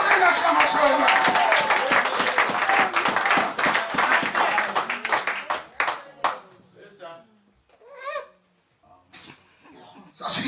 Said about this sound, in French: Donnez une acclamation, Amen